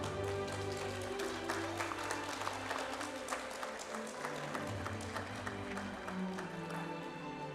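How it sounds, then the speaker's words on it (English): Audience applause at a Boys' Brigade company awards day for parents and junior boys, steady continuous clapping from a crowd across the whole stretch, with a low background hum and no speech. "Let's give a round of applause to them."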